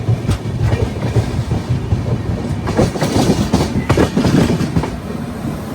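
Passenger train rolling into the Khandwa Junction yard, wheels clattering rhythmically over rail joints in a continuous rumbling din heard from on board, loud and steady with no one talking.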